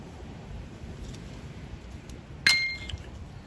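A single sharp metal clink rings out with a short decay as bolts are set in place on a Craftsman lawnmower carburetor, against a quiet background.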